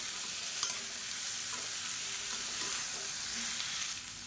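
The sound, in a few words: beans sautéing in oil with salt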